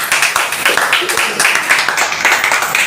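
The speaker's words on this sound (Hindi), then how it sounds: "एक जोरदार ताली होनी चाहिए" Audience clapping at an Indian business or lifestyle company event, loud and dense, steady throughout with speech-like sounds mixed in.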